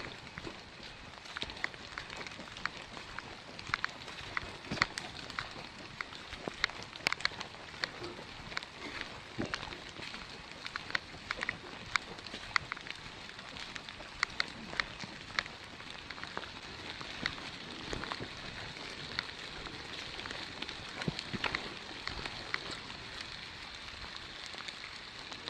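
Steady rain falls on a Smoky Mountains ridge hiking trail on a wet March day, a dense continuous patter of drops with sharper taps close by, heard on its own without talk.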